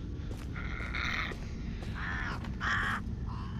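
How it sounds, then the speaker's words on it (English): Crows cawing in the VR horror game Face Your Fears 2, several harsh caws in short bursts, moderately close and clear over a low ambient rumble, with no talk. "Bird."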